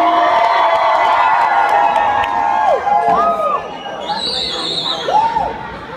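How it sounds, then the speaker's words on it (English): A concert crowd at a hip-hop show cheers and shouts loudly and continuously, with whoops rising over the roar while a performer speaks over it. "Make some noise for Brooklyn."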